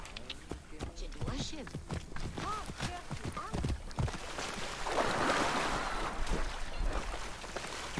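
Horse hooves clip-clopping in a rhythmic trot while riding in Assassin's Creed Origins, steady hoofbeats over wind and ambient game sound, with someone talking over much of it.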